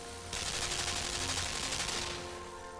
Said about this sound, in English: There are machine guns in this game.